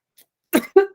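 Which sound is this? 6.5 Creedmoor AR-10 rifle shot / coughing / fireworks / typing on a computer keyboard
coughing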